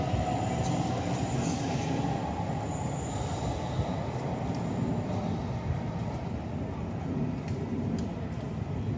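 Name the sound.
train passing through station without stopping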